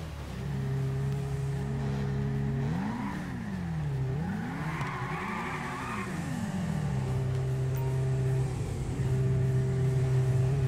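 Motorcycle engines in a GTA V race, a loud sustained whine that rises and falls in pitch through repeated revving swells, sounding close and continuous with no talk.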